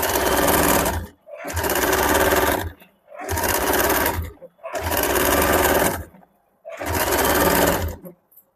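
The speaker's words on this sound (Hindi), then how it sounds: "अभी हम लोग चाक से ही ऊपर की तरफ फिर से घुमा देंगे और 2 पॉइंट दूरी से एक और सिलाई डाल देंगे।" An electric sewing machine stitches a suit collar up close, running in five loud bursts of rapid mechanical whirring, each a second or so long, separated by short pauses.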